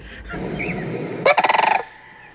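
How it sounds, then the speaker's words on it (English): A loud, rattling sandhill crane call: a burst of rapid rolling croaks, about a dozen pulses over half a second, close by against background hiss. "That bird was actually a sandhill crane."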